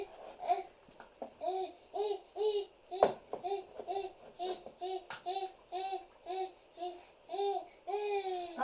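A young child babbles in rhythmic bursts of syllables, with a few squeals and bumps, in a room where body butter is being made; the voice is moderately close and keeps going throughout.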